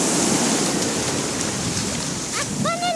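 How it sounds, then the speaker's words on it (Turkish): Sea waves wash and pull back along a beach in a constant roar, with wind buffeting the microphone. A brief high-pitched voice rises near the end. "Dalga içeriye çekiyor babacığım öyle gidilir mi?"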